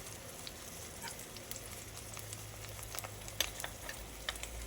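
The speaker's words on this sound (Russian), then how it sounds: "Обжаренные дольки баклажанов снимаю со сковородки и кладу туда новые." Quiet, steady sizzling of eggplant slices frying in a pan, with small crackles and pops scattered throughout and a low hum underneath.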